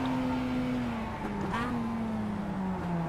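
A Mazda MX-5 Cup race car in iRacing drones steadily from the cockpit, engine pitch dipping through quick downshifts with a short blip midway.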